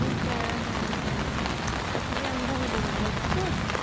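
Rain falls steadily on a tent at a camp site in a thunderstorm, a dense, continuous patter of drops on fabric close by, with faint distant rumbling beneath.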